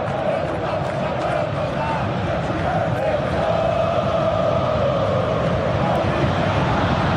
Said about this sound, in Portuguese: o grito a torcida do Corinthians em Itaquera